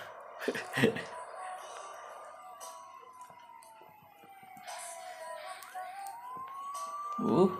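A siren wails with a steady rising and falling tone, moderately distant, with scattered background noises and a brief louder burst near the end; an ambulance siren in Bus Simulator Indonesia.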